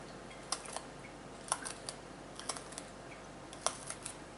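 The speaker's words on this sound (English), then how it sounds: "I'll cut him up in there." A knife chops through a fresh jalapeno pepper on a cutting board, faint scattered clicks and taps in quiet pairs and singles, close but soft, with no talking.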